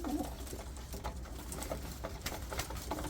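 Pigeons coo softly while eating sesame seeds amid a steady background rumble, with scattered pecking and rustling sounds throughout.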